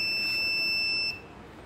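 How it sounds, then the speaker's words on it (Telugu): A smart-helmet vehicle warning buzzer sounds because the helmet is not being worn: one steady, piercing electronic tone held for about a second, then cut off and followed by quiet room noise, with no talking. "సో ఒకవేళ హెల్మెట్ పెట్టుకోకపోతే వెహికల్ ఇలా బజర్ వచ్చి వెహికల్ ఆగిపోతుంది."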